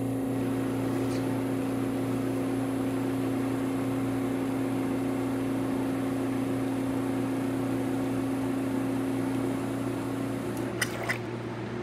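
Motor of a Vesuvius espresso machine running while pulling a shot, a steady mechanical hum with a constant tone that drops slightly near the end, joined by a few brief clicks.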